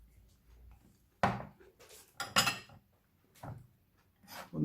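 Peanut salad being tossed and mixed with salt in a bowl, giving several separate scraping, clattering bursts of utensil against dish at close range, with quiet gaps between them.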